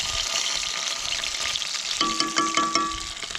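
Fish frying in grease over an outdoor survival cookfire, a steady close sizzle and crackle throughout with a few scraping stirs and clinks in the final second.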